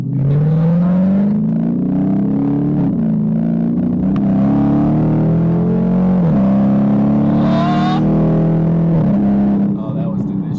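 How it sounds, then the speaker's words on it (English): A 2018 Dodge Challenger T/A Plus under power through paddle-shifted gears: the loud, close engine note climbs, then drops at each upshift, where the exhaust gives a brief pop before rising again. "when it shifts, it like almost like pops a baffle or something in the exhaust"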